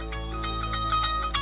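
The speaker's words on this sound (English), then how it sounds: "Phone call coming in." An incoming phone call rings out as a repeating electronic ringtone, with steady rhythmic bursts that sound close and clear over a constant low background hum.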